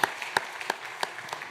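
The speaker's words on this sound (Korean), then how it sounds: "박수로 환영하겠습니다." Sparse, light clapping from a small church congregation welcoming a new member during Sunday worship, a few distinct claps spaced irregularly, fairly quiet and close.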